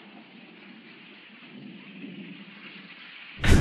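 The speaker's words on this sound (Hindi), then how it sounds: "ये बरसात है ना" Rain falls steadily as a soft, even hiss that swells slightly before a sudden loud thunderclap bursts in at the very end, with no voices.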